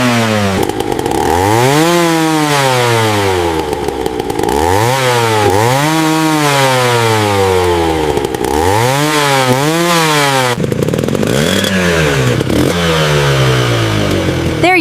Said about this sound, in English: Come on, rev it up.